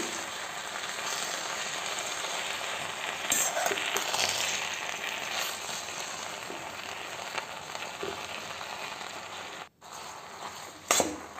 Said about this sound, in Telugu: ఇది ఆల్మోస్ట్ ఫ్రై అవుతుంది, ఇంకా కాసేపు నేను ఫ్రై చేస్తాను